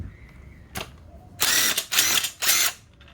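A socket wrench ratchets an 8 mm engine mount nut off a Honda CBR600F4i, giving a click followed by three close, loud bursts of rapid ratcheting.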